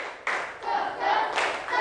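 Schoolchildren in a classroom do the tepuk jos clapping chant, a burst of loud group voices shouting together with hand claps mixed in, in several surging waves close by.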